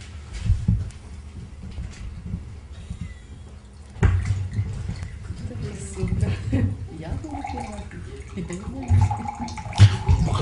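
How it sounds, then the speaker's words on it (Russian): Water is poured into a drinking glass at a press conference, with a steady trickling splash running through the clip while people talk over it. "Наливай стакан."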